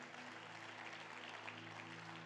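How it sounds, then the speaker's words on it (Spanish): A church congregation claps together in a sustained burst of applause over a steady low tone, quiet and diffuse, lasting around two seconds. "Dan una ofrenda de palmas a ese Rey de Gloria."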